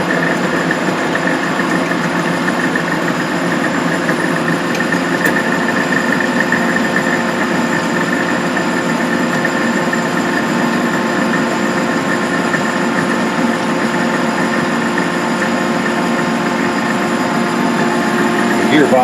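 A Gentleman Janitor boiler fitted with a Van Wert coal stoker runs on a heat call, giving a loud, steady mechanical drone and hum with a constant whir of gearbox, drive belt and fan, close up and unchanging throughout.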